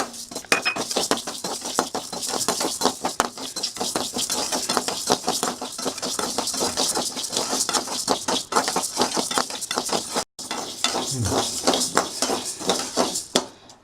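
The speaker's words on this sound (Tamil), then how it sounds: "பருப்பு வறுபட்டுச்சுங்க." Lentils (dal) roasting in a pan on the stove, stirred steadily, giving a continuous dry rattling and scraping with dense rhythmic clatter throughout and a brief pause near the end.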